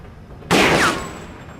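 A single loud, close gunshot in the video game The Black Mirror, a sharp blast with a short decaying tail after a quiet lead-in.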